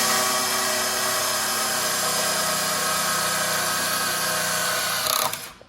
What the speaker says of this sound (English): We'll start out with a small drill bit just to get a pilot hole started.